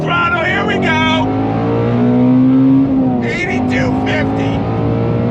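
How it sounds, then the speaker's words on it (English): 2020 Shelby GT350R engine revving hard up to 8250 rpm, a loud sustained climbing engine note that peaks, drops briefly, then holds high again, with someone talking over it. "We need to go all the way up to 8250. Are you ready? Make sure we got nobody around. On throttle, here we go!"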